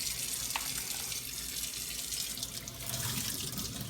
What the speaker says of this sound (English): A little bit of cold water, get all the salt off.